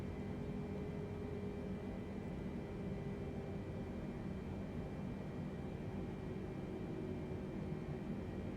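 A Boeing 747 on final approach in Microsoft Flight Simulator 2020 gives off a faint, steady jet engine drone with an even wind-like rush and a thin whine, continuous and unchanging throughout.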